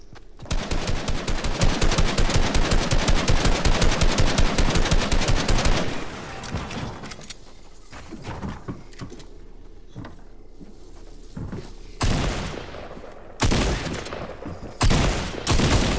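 Loud close bursts of rapid automatic gunfire from a Fortnite zone wars match run for about six seconds, followed by scattered single shots and short volleys with quieter game noise between them.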